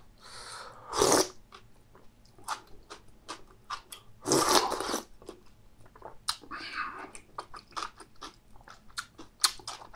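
Chewy cold acorn jelly salad being eaten up close, with soft wet chewing and a few louder crunchy bites repeating in irregular rhythm, alone without talk.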